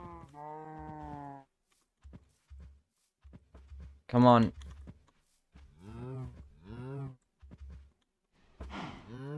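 Cows moo in Minecraft: one long low in-game moo opens, with several shorter moos and a loud bellow scattered later, between brief bits of a player's speech and soft clicks.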